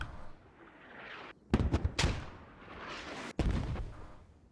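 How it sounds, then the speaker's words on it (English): Mortar rounds firing and landing in a military shooter game, with several loud booming blasts in a row, two sharp ones close together and another near the end over a low rumbling battle background. "Mortars are doing work."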